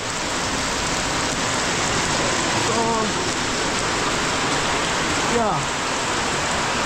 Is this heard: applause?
no